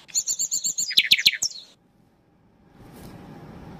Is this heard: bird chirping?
yes